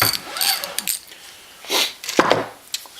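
Handloading press for ammunition working with a dry, grinding mechanism, several short clicks, ratcheting rasps and squeaks in irregular bursts, close up and alone.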